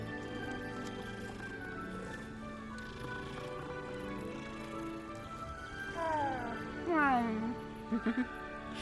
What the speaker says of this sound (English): These cats have very aggressive meows, by the way. After you pet them, they all meow, and they're kind of loud.